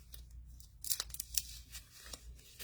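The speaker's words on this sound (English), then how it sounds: "I'm going to cut that little half moon out with my scissors" Scissors snipping a half-moon shape out of paper for a junk journal, a quick run of faint, close, crisp cuts and rustles with no talking.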